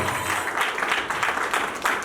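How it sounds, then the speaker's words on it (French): Guests clapping at a civil wedding ceremony in a town hall, a continuous rush of many hands at moderate level, fairly even throughout with slight swells. "Sous vos acclamations, s'il vous plaît"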